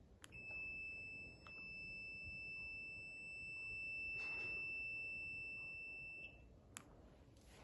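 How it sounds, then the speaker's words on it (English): An electric shutter remote key-fob gives a continuous high-pitched beep during pairing, steady for about six seconds before stopping, heard faintly over a low background hum with a few clicks. "holding the stop button there for a few seconds until the beeping stops"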